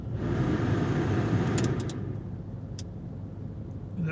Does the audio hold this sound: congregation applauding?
no